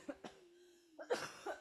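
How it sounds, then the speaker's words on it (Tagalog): A person coughs close to the microphone: two quick coughs, a pause with a faint steady hum, then a harsher cluster of three or four coughs. "grabe yung ubo ko, ang lala"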